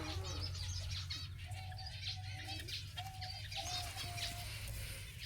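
Laughing doves and other birds in an aviary: steady cooing calls and chirps under a constant background hum, with occasional wing flaps, close by and with no talking.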